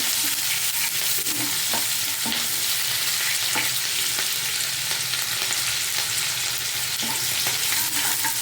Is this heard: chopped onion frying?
yes